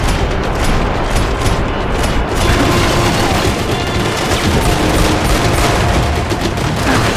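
Dense, loud gunfire from the Max Payne 3 video game on Xbox, with rapid overlapping shots and bursts that run unbroken from start to finish and no voices.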